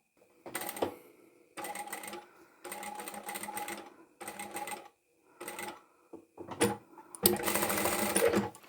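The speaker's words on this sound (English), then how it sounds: "I'm going to sew the two pink pieces of fabric together" A sewing machine stitching two pink fabric pieces together for a small zippered handbag, running in short bursts of rapid mechanical whirring separated by pauses, close and clear, ending with a longer run.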